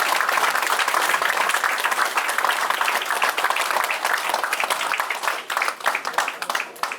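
Steady applause from a crowd in an indoor hall at the opening ceremony of a political party's research institute in Busan, with dense clapping held at an even level throughout and some voices mixed in.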